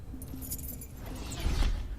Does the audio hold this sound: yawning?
no